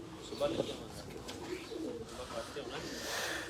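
Teddy pigeons coo in short throaty bursts, fairly close and moderately quiet, with people talking in the background.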